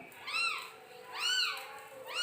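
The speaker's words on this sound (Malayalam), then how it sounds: "പൂച്ച എന്ത് പറയണ? അയ്യോ എന്തൊക്കെയോ പറയണ" A cat meows repeatedly, three clear rising-and-falling calls spaced about a second apart, close and fairly loud against a quiet indoor background.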